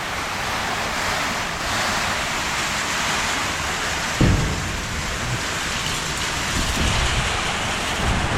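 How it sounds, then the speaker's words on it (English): Hail falls in a dense, continuous hiss and patter, steady and loud throughout, with one brief thump midway and no voices. "Sounds like hail"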